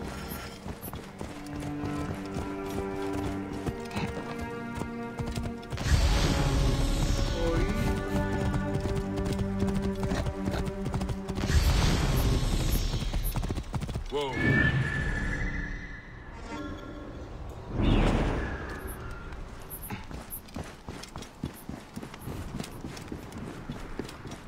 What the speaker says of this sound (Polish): Koń na nas grzecznie czekał.